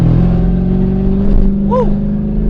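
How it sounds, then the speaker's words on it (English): A Mercedes SL55 AMG engine revs up loud and close on a downshift, a steady throaty drone from inside the car with a brief rising blip. "And that was a downshift."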